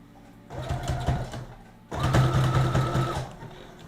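A sewing machine stitches a dress in two close bursts of rapid whirring needle strokes, the second louder and steadier, separated by a brief pause.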